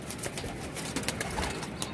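Soft pigeon sounds with faint flutters and shuffles over a steady background hiss, fairly quiet and close by.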